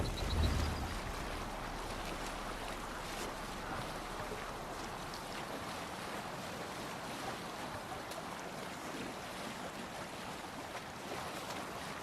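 Viking longship sailing at sea in the video game Assassin's Creed Valhalla, a steady wash of waves, water and wind with a low thump at the start, no talk.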